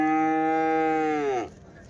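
A single cow at the Sunday cattle market in Chintamani gives one loud, close moo that sustains and then bends downward, trailing off into quiet crowd background.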